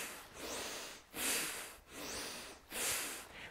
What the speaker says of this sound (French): Inspire, expire, puissamment.